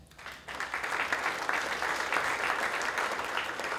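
Audience applause for a speaker joining a panel at a technology event, steady clapping from a modest crowd that swells in after a quiet start and holds evenly at moderate distance.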